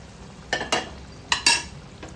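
Fried Bommidi fish poured with their frying oil into a simmering curry, heard as two short pairs of splashing sizzles, fairly close and alone.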